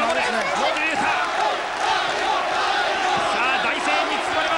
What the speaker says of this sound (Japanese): さあ大声援に包まれます。